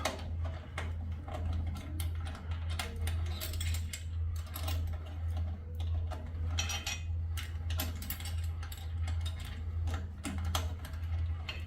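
A gear bar clamp on a Fit Pilates reformer is loosened, giving a run of light ratcheting clicks and mechanical taps over a steady low hum, with no voices.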